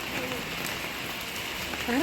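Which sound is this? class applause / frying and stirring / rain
rain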